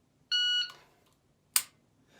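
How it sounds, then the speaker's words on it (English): A shot timer gives a single sharp electronic beep as a random go signal during dry-fire pistol practice, followed about a second later by a short sharp click, with a quiet indoor room around them. "stick this guy in here to get a random beep that gives me a go signal"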